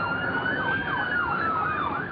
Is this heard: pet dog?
no